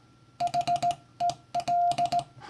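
Morse code CW keyed with a paddle, a steady sidetone beeping in bursts of short dits and long stretched dahs with tight character spacing, clean and close, with paddle clicks along with the tones.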